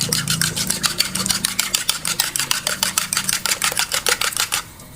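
A whisk or fork beats chicken eggs rapidly against a bowl in quick, regular clicking strokes, slowing slightly near the end.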